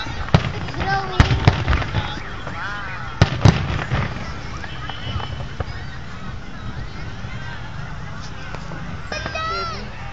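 Fireworks bursting at Mall of Asia, a few sharp distant bangs and crackles over a dense, noisy crowd din with people talking nearby.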